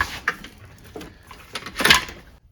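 A drawer on a Mac Tools toolbox cart slides open with a few short scraping and clunking sounds, the loudest burst near the end, close up with no talking.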